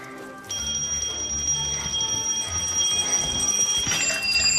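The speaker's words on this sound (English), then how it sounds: "make sure at least one alarm is ringing by the end of the challenge" An alarm clock rings steadily with a high, continuous electronic tone over a busy background, holding for several seconds.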